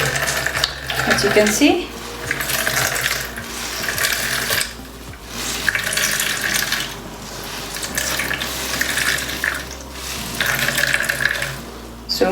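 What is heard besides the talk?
water squeezed out of vegetables by hand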